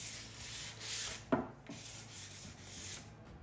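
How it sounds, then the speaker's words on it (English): Light hand sanding of a wooden closet shelf with 400 grit sandpaper after a first coat of polyurethane, a faint steady rubbing with one brief sharper scrape, no talking. "Then use 400 grit sandpaper to lightly sand after that first coat."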